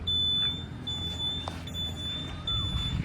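The hazard lamp buzzer on a 2025 TVS Jupiter scooter gives off a thin, high-pitched, shrill tone in repeated pulses, heard close over a low background rumble.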